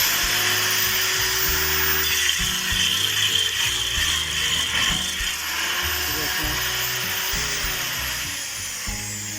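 A cutter grinds through an electric motor armature with a steady high-pitched whine and rough, juddering low scraping beneath it. The sound is close, continuous and loud.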